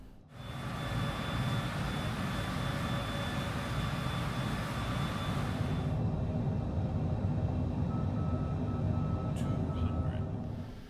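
A Bombardier Global 6000 business jet on an ILS approach in foggy Sapporo, rendered in Microsoft Flight Simulator: a steady, continuous engine roar and wind rush with a faint whine, holding even throughout with a few light clicks near the end.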